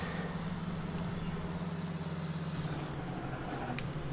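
A tractor engine in Farming Simulator 19 drones at a steady low idle-like hum, constant and close, with a faint tonal rise near the end and no talk over it.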